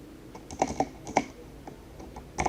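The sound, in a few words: typing a command on a computer keyboard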